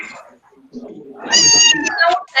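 A house cat meows several times up close, the longer calls drawn out and rising, with a voice speaking briefly beside it.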